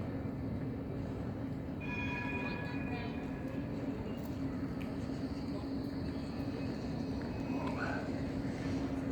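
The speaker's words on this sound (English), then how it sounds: "The little tram going along over there, pulling into the little tram stop." A tram rumbles and hums steadily as it pulls into a tram stop in an open square, with faint metallic squeals and a soft chime over constant low street noise; distant voices murmur.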